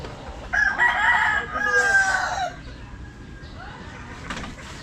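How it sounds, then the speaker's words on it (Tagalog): A rooster crows loudly in a long drawn-out call, then quieter squawks follow amid faint background noise. "Manok sa taas."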